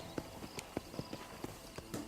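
Horse hooves clip-clop at an easy walking rhythm in Red Dead Redemption, a steady run of distinct, moderately close hoof strikes with no voices.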